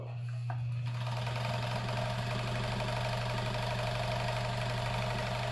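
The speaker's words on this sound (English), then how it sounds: "we're going to sew some denim. So this will be 2 layers of denim" An Adler 152 industrial sewing machine stitching through two layers of denim starts up and runs at a steady, fast, even chatter with a strong motor hum, close and loud throughout.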